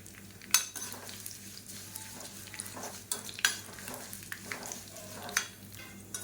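Small lumps of asafoetida and spices fry in oil in a kadai, making a faint, steady sizzle broken by a few sharp clinks and scrapes of a stirring spoon against the pan.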